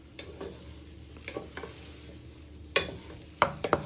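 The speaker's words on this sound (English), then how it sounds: "Then we're adding our shallots and garlic to fry." Chorizo, shallots and garlic sizzle in olive oil in a pan, a low steady fry broken by stirring scrapes and a few sharp utensil clatters toward the end.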